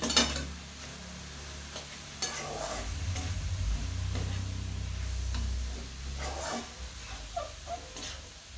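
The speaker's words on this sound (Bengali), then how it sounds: "টমেটোটা দিয়ে টমেটোটাকেও আমি ভালো করে মিশিয়ে দেবো" A spoon stirs and scrapes chopped tomato through a chicken filling in a pan for chicken pitha, giving a continuous close scraping with a low sizzling bed and a few sharper utensil knocks, with no talking.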